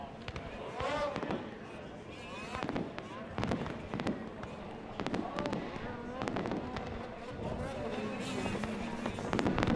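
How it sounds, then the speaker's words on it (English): Fireworks bursting over a nighttime snocross race at Spirit Mountain in Duluth, a rapid string of sharp pops and crackles under an announcer's continuous voice. "The fireworks fly, and thanks to everybody who came out here in Duluth tonight."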